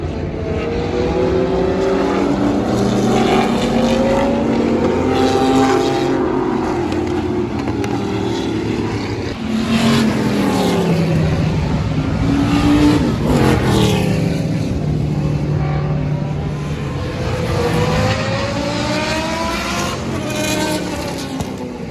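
Vintage race cars, including a Group 5 De Tomaso, roar past at the Nürburgring Old Timer Grand Prix, with loud, continuous engine howls rising and falling in pitch as several cars approach and pass in succession.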